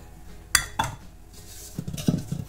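Beignet dough being mixed in a bowl, heard as sharp clinks of a utensil against the bowl followed by softer scraping and knocking, close and alone without talk.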